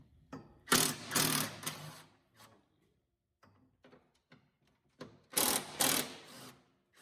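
A ratchet turns the nuts on a 1968 Mustang's PerTronix Flame Thrower distributor. Two close bursts of quick, rattling clicks come with a few quiet knocks between them, and there is no talking.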